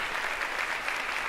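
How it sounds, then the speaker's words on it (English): A TEDx audience at the Courtauld Institute claps in a dense, continuous burst of applause that fills the hall evenly for the whole moment, with no voices over it. "Round of applause for yourselves, please."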